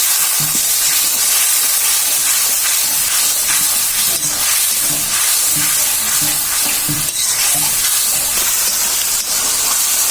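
Spiced prawn dal with turmeric and coriander powder hisses loudly in a pan as water is poured in for sautéing, a dense, steady sizzle with bursts of steam and clattering stirring throughout.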